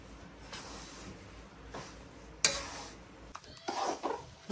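Adadiya pak mixture roasts in ghee in a pan over low gas, with soft scraping stirs, a sudden louder clatter midway and faint sizzling throughout.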